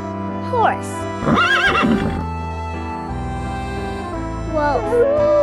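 A horse neighs and whinnies in wavering bursts, the loudest in the first half and another near the end, over steady background music.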